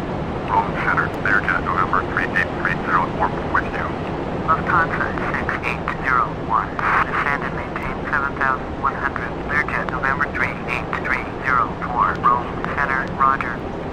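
Simulated Airbus A320neo airliner engines in flight in the FS2004 flight simulator game give a steady, even drone throughout, heard under continuous male speech.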